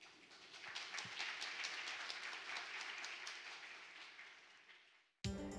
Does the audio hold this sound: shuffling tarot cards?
no